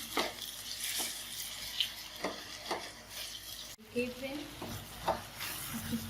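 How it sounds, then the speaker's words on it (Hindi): Tomato with ginger-garlic paste frying in oil for chole masala, a steady sizzle broken by repeated spoon scrapes and stirring strokes against the pan, close and fairly quiet. "इसको भी अच्छे से फ्राई करके तेल में"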